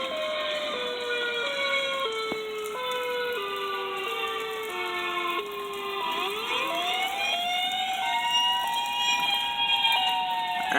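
Outdoor emergency warning sirens sound during storms in a town, a steady wailing tone that steps down in pitch and then rises again, loud and continuous, with several sirens overlapping from along the street.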